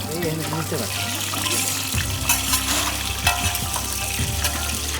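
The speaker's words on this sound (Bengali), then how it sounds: "শুকনো মরিচ ভাজা শেষ" Dried chillies frying in a pan, a steady hiss and sizzle with faint stirring scrapes, close and moderately loud, while someone talks over it.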